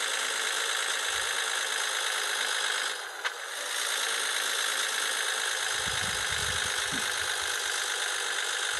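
Steady, droning engine of a Volvo F-16 truck in the Cargo Transport Simulator video game, pulling uphill with a constant broadband roar that holds level throughout, close and unbroken apart from a brief dip, with no talk.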